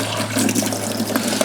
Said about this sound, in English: We're just gonna run the hose basically, get some water in this bucket.